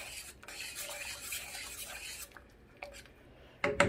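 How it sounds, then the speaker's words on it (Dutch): A spoon scrapes and swirls around a pot of onion soup seasoned with black pepper, a soft rubbing stir that fades into quiet, broken by a few sharp clinks, the loudest at the very end. "Ik ga weer even roeren."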